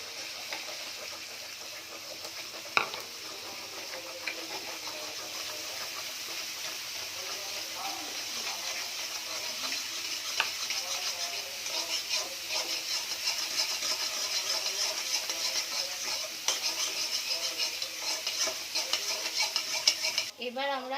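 Beaten egg is added to fried beef in a pan for a noodle dish. Close, steady sizzling continues throughout, with frequent scraping and clinking of the stirring utensil against the pan.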